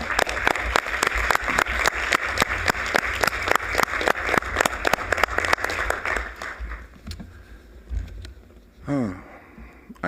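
A room full of people applauds at a board of trustees meeting, loud dense clapping for about seven seconds that then thins out, followed by scattered noise and a brief voice.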